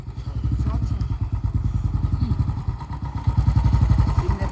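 A motorcycle on the road from Pokhara toward Dhampus runs close and loud with a steady, rapid thumping engine beat that swells slightly toward the end.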